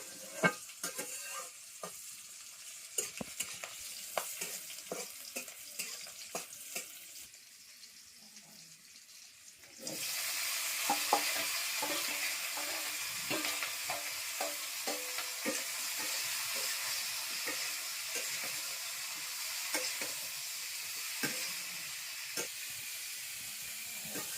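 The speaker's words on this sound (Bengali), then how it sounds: "তেলের মাঝে রসুন আর মরিচ দিয়ে দিচ্ছেন এখন দেব করল্লা করল্লা ভাজি হবে" Bitter gourd with garlic and chilli hitting hot oil: after a quieter stretch of light clatter, a loud sustained sizzle bursts in and continues steadily, with scattered utensil scrapes and stirring sounds over it.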